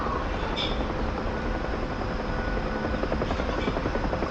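UH-1H Huey helicopter in a flight simulator game over Las Vegas, a dense continuous rotor and turbine drone, loud and steady throughout with faint rhythmic blade chop and no talking.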